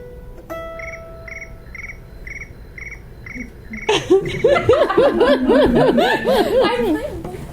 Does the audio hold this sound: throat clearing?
no